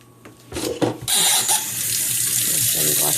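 Tap water runs steadily over a ceramic kitchen knife in a sink, starting with a few splashes before settling into a loud, continuous close-up stream with no talking.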